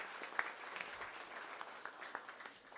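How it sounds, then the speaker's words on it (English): Audience applause fills a civic event where Baltimore's mayor announces a summer youth engagement strategy: a dense, steady patter of many hands clapping, with a few sharper claps standing out. "let's give the Children and Youth Fund a big round of applause"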